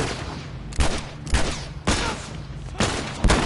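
Gunfire from enemies shooting in The Last of Us Remastered, five loud, close shots spaced roughly half a second to a second apart, each with a short decaying tail, and no speech.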